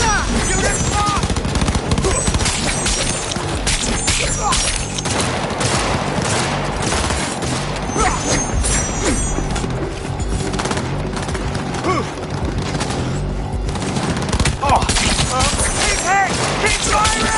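Dense, continuous gunfire from the video game Cyberpunk 2077, with bursts and automatic fire layered loudly throughout, alongside game sounds and voices talking over the action.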